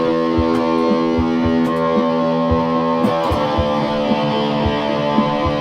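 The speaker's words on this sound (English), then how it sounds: "Yeah, so 4 distortion pedals, 5 pickups." Electric guitar with five pickups engaged, run through four distortion pedals stacked together, chugging thick saturated chords in a steady rhythmic pattern, loud and close with a dense buzzing sustain and no talking.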